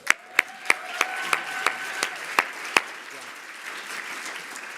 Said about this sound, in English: let's give an incredible, warm round of applause for Lindsay Sarniak